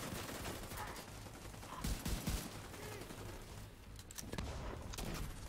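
Heavy explosions and shrapnel blasts in the video game The Division 2, a dense, loud barrage of booms and crackling gunfire-like bursts that continues throughout without a break.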